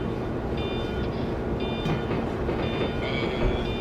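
Train running in the Train Simulator Classic video game: a continuous loud rolling rumble with rhythmic wheel clatter and intermittent thin, high metallic squeals. Nobody talks.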